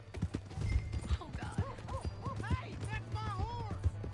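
A horse in the video game Red Dead Redemption 2 gallops off with quick rhythmic hoofbeats, close and clear, with shouted voices and a whinny mixed over the clip-clop.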